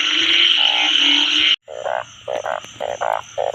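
Loud, close croaking from a narrow-mouthed frog caught during rain, a sustained buzzing trill that breaks into a rhythmic series of short pulsed croaks, heard alone.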